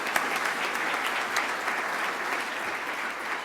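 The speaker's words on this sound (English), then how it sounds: "Again, a round of applause for" Audience applause at a 2024 Business Excellence Awards ceremony in NB: steady, even clapping from a sizeable crowd, continuous for a few seconds with no voices over it.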